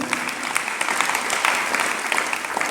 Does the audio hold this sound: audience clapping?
yes